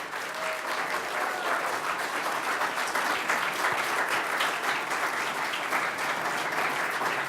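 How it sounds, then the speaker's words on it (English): At a university business pitch competition, the audience applauds the contestants with loud, continuous clapping that holds evenly throughout. "Give a round of applause for our contestants for tonight."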